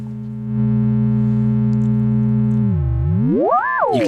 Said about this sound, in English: you can get some really interesting ring modulated pitch shifting sounds